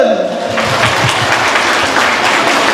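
An audience at a Catholic parish celebration for the feast of Saint Monica claps loudly and steadily, a dense crowd applause that swells after a moment as voices mix in.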